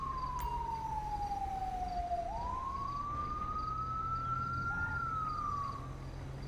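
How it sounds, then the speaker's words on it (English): Ambulance siren arriving on scene in the LSPDFR police game, a loud continuous wail sweeping slowly down then up in pitch, with a low vehicle rumble beneath and no talking. "Ambulance is almost on scene."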